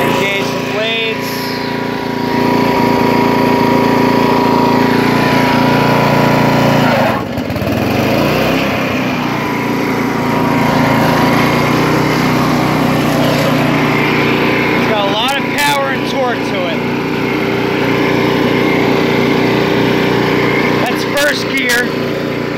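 A Troy-Bilt 33-inch wide-cut walk-behind mower runs loud and close with its blades engaged, a steady rough engine roar that dips briefly as the load changes, while someone talks over it now and then.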